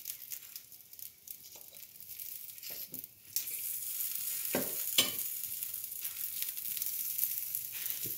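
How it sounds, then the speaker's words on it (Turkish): Sucuk sausages sizzle and crackle steadily as they are turned in a frying pan, with soft scraping and clinking taking over after a quieter start, close and continuous. "Şimdi sucukların bu tarafını çevireceğim."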